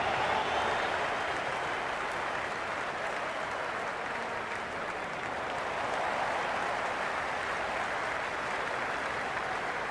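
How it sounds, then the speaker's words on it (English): Dense, steady crowd roar from a cricket stadium in the video game Cricket 26, a New Zealand versus England T20 World Cup match, sustained and loud throughout with no clear peaks. "There's an almost tangible fervour throughout the crowd at the moment."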